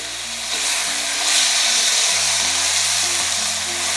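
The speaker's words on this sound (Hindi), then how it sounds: "अब हम फ्लेम को हाई करके आलू पालक भून लेंगे।" Potatoes and spinach fry over a high flame in a steady, loud sizzle, with a faint mechanical hum or low tone running underneath and no talking.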